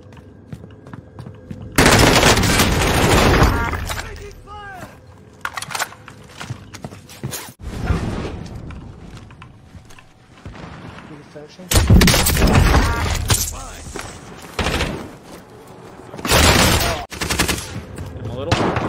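Gunfire in Call of Duty Modern Warfare comes in loud, dense automatic bursts separated by quieter stretches, with several distinct volleys of rapid shots.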